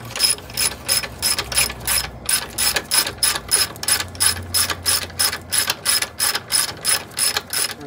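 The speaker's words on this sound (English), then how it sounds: "after removing both sides here with the 13/16, it's a 3/8 ratchet" A 3/8 ratchet clicks away steadily, loosening a nut on the brake of a Kaabo Wolf King electric scooter, with loud, close, evenly spaced pawl clicks in a continuous rhythm and no voices.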